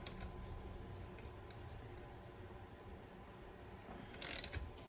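A ratchet wrench clicks while bolts are backed out of a Yamaha R3 motorcycle transmission, a faint low mechanical hum running steadily before a short, brighter burst of rapid ratcheting near the end.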